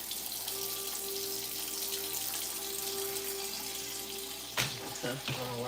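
A kitchen tap runs in a steady, moderate stream while someone cooks, with a faint hum underneath, then clunks and splashes near the end as things are handled in the sink.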